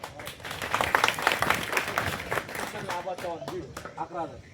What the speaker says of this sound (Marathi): पुन्हा एकदा टाळ्या वाजवा.